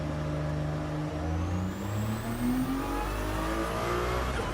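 Car engine in a racing video game, revving and accelerating loudly and continuously at close range with rising pitch, heard alone without talk.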